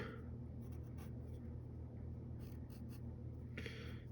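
Pencil sketching on paper, steady close scratching strokes continuing throughout, a few brighter strokes standing out, drawing a comic-book superhero's hand.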